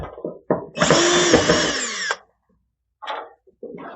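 A power drill backs out a ballast screw on an ESB Galaxy 30 tanning booth, a short whir and then a loud sustained burst of about a second and a half, with a couple of quieter spins close by.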